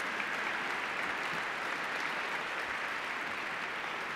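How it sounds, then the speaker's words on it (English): An audience at the 2014 National Science Bowl awards ceremony gives a steady, sustained round of applause, a dense wash of many hands clapping at moderate loudness throughout, with no voices above it. "Nice round of applause for Greater Boston Science and Math Team"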